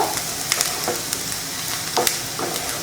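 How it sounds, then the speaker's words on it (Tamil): Onions sautéing in a pan for egg podimas, a loud, dense sizzle with scattered sharp crackles and spatula scrapes, continuous and close throughout. "வெங்காயம் நல்லா வதங்கிருச்சு"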